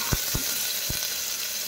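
Onion and garlic fry in hot oil with cumin for parwal sabzi, a steady close hiss of frying with a few soft knocks from stirring.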